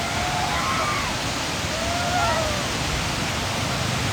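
Dadar waterfall in Kaghan, Pakistan, roaring as a steady, dense, loud rush of falling water that fills the whole clip without letting up.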